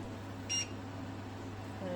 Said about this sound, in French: ça fait beaucoup de bip